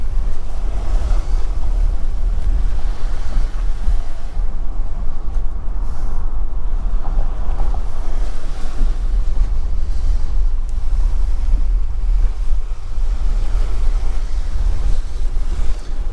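Sea surf surges and crashes against a seawall on the Aberdeenshire coast by a fishing village, a steady loud roar of waves mixed with heavy wind buffeting close to the microphone, with no talking.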